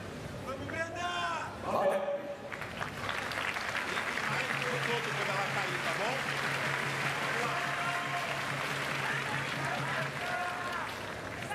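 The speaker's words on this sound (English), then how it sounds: "Crowd really getting behind them." A crowd at a women's -70kg para judo final at the Paris 2024 Paralympics applauds and cheers in a broad, sustained roar filling the arena, with a commentator talking over it.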